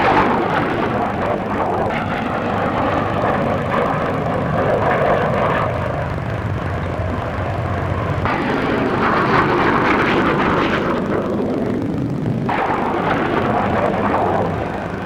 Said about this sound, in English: P1067 is the latest production fighter for the RAF